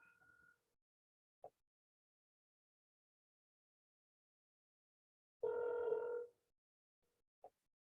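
An outgoing phone call rings unanswered, giving a single faint ring tone burst with a couple of tiny clicks before and after, separated by long silence.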